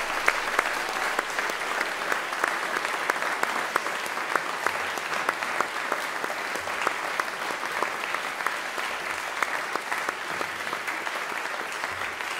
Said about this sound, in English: let's give all the little children in the chapel another round of applause